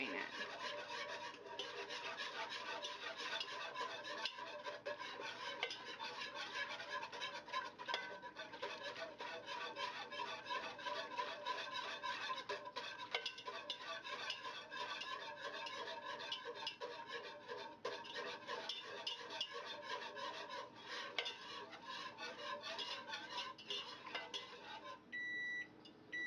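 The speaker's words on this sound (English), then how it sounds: "you just want to keep stirring it, and every once in a while just kind of stop and see if it's boiling" Gravy being stirred in a pot for biscuits and gravy, a steady scraping and rasping of a utensil against the pan that runs continuously and close up for the whole stretch, with no talking.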